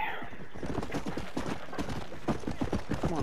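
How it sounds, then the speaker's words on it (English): Horse hooves galloping in the Red Dead video game, a steady fast clip-clop rhythm of hoofbeats at moderate loudness throughout, close and continuous. "Come on, horse."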